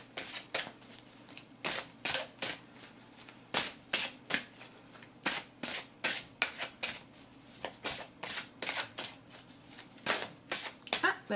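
Tarot cards shuffled by hand before a reading, a long run of crisp, rapid riffling bursts in a steady rhythm, close and fairly loud, with a low background hum and no talk over it.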